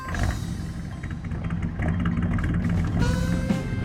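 A Chevy Stepside pickup's engine runs and revs close by, a low throbbing idle rising in short surges over a few seconds.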